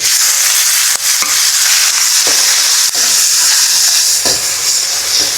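Cubed tomatoes frying in a hot pan, a loud continuous sizzle with hiss and crackle, broken by a few sharp clinks of a utensil stirring, no voices.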